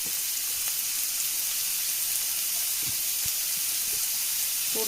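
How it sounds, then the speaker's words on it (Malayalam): Two small chopped onions sizzle in hot coconut oil, making a loud, steady frying hiss throughout with a few faint clicks and knocks underneath. "ഇനി ഇതിലേക്ക് ഞാൻ രണ്ട് സവാളയാണ് ചെറുതായിട്ട് ചോപ്പ് ചെയ്തെടുത്തതാണ് ഇത് ചേർത്ത് കൊടുക്കുന്നുണ്ട്"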